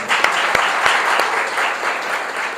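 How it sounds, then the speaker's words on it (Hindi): A congregation applauds loudly for Jesus at a Christian church gathering, a dense, steady wash of clapping with a few sharper claps standing out, sustained throughout. "तो यीशु के लिए जोरदार तालियां बजाएं इस बात के"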